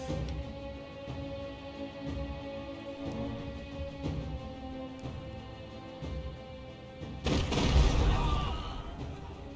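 Gunfire and explosions from a war video game, with sharp shots scattered across a steady background, then a heavier booming burst near the end.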